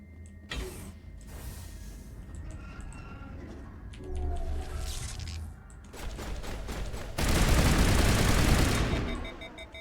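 Rapid bursts of high-explosive rounds from a gun in the Mass Effect 1 game, a loud clattering volley that grows denser and heavier toward the end, over a low rumbling background.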